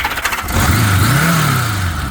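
A motorbike on its standard exhaust, a model rarely seen since the 1980s, cranks and catches, then settles into a loud, close, rising and falling idle with no talking.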